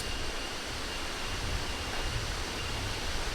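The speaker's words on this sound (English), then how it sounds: "Oh my god, I can hear the waterfall, I can start to see the waterfall." A waterfall in Batu, Indonesia roars as a steady, dense rush of falling water, loud and continuous with no breaks and no voices.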